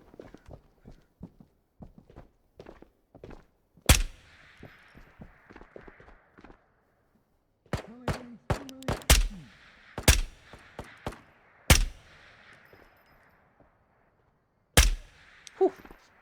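Gunfire from a hybrid DMR and CQB rifle chambered in 6.8 in the VR shooter Ghosts of Tabor: loud, sharp single shots and a quick burst of rapid rounds, separated by soft footsteps and handling clicks, with no talking.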